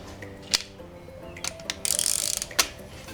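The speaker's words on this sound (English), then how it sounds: "So we're going to tighten this. Okay, then we'll grab the ratchet." A ratchet tightens bolts on a Subaru engine during a rebuild, with scattered metallic clicks and a short burst of rapid ratcheting, close up and without speech.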